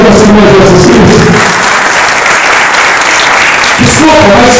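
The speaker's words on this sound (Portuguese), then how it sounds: "Você pode aplaudir o Senhor Jesus Cristo?" A church congregation at an international worship service in Peterborough breaks into loud, sustained applause. The clapping is a dense wash of many hands, with some voices mixed in, holding steady for several seconds.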